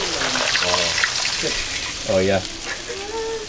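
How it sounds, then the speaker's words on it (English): Food frying in a pan in an Ethiopian kitchen gives a steady, close sizzling hiss that runs throughout, while voices talk over it. "She's frying up some of the chocolatives right there."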